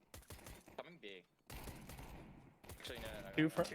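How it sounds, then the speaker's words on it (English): Rapid bursts of rifle fire in the shooter game Counter-Strike 2, several quick volleys separated by short pauses, mixed with someone talking over the shots. "you're shooting here very hectically as well"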